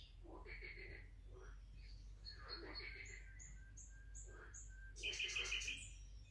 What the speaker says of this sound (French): les oiseaux et les grenouilles.